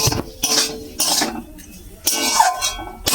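Cooked chichinga (snake gourd) leaf curry scraped from a pot into a clean bowl, with bursts of metal clinking and scraping in a few separate strokes, close and fairly loud.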